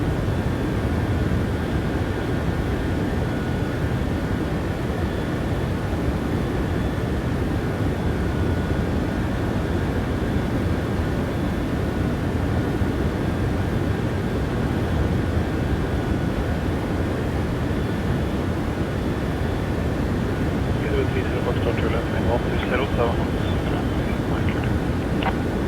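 A Boeing 737-800 in a PMDG flight simulator rolls at full takeoff power from Trondheim's runway 09, with steady, loud engine roar and rumble throughout and faint tonal whines near the end.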